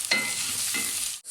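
Ginger, garlic and onion sizzle loudly in a hot pan while being stirred, a steady frying hiss with a couple of scraping stir strokes, close and alone, cutting off briefly at the end.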